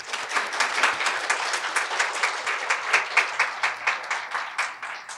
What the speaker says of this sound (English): I think we all deserve a big round of applause for ourselves